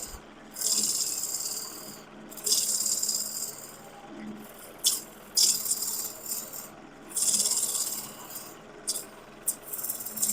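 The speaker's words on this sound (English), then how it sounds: "I guess I can turn the speed of the lathe up." A wood lathe spins a piece at higher speed while a tool cuts it, throwing long shavings. The cuts come as repeated bursts of bright, hissing scraping separated by short quieter gaps.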